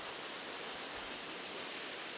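Waterfall in Dentdale in the Yorkshire Dales pours behind large mossy boulders, a steady, faint, broad hiss of falling water with no other sounds.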